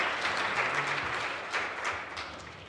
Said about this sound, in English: Let's clap our hands together for Jesus.